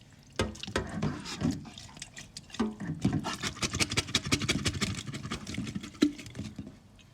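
Water is poured off salted fish being prepared for fermented fish paste, making an irregular, close splashing and pattering that lasts the whole stretch with small drips and gurgles.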